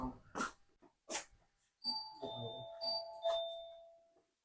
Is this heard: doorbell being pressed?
yes